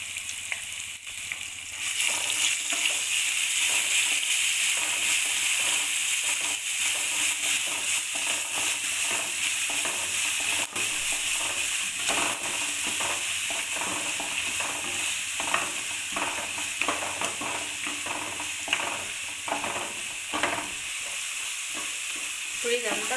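Ground paste frying in a pan while being stirred, a loud continuous sizzle with repeated scraping strokes of a spoon against the pan throughout.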